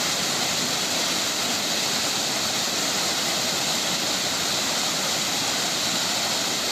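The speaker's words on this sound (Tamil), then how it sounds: "கும்பக்கரை அருவியில் வெள்ளம் பெருக்கெடுத்தது" Kumbakkarai falls near Periyakulam in flood after heavy rain, a steady loud roar of rushing water that holds constant throughout, broadband and dense with no pauses and no voices.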